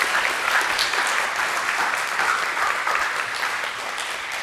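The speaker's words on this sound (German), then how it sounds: "einen großen Applaus für die Andrea." Sustained audience applause at a science talk show, dense and steady throughout, fairly loud and close with no talking over it.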